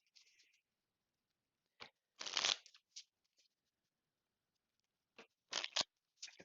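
A deck of cards is shuffled for a Lord of the Rings living card game, with quiet, brief riffling and ruffling bursts separated by silent gaps.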